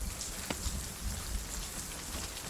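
Steady rain hisses and patters continuously through a multiplayer video game match, moderately loud with scattered droplet taps and no voices.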